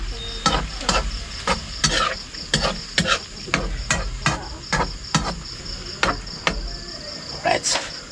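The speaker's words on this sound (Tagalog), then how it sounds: "Haluin natin." Food stirred in a frying pan, a utensil scraping and clacking against the pan in a steady rhythm of about two strokes per second over continuous sizzling, with faint talk in the background.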